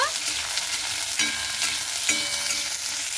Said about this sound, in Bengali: সিমগুলোকে আমি 2-1 মিনিট ভেজে নেব।